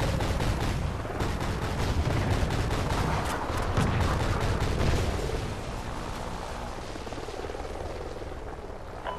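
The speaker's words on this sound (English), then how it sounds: "Friendly Trinity rocket inbound." A rocket strike in a combat video game: dense, continuous rumble with rapid repeated impacts and crackling bursts, loud at first and easing slightly toward the end, with a rotor-like thudding underneath.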